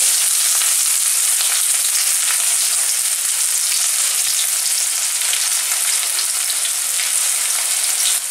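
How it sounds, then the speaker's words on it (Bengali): Chopped onions sizzle in hot white cooking oil in a wok while making pav bhaji: a loud, steady, close frying hiss that runs without a break and with no voices. "কড়াইয়ের তেল গরম হয়ে গেছে, আমি এতে দিয়ে দিলাম পেঁয়াজ কুচিগুলো।"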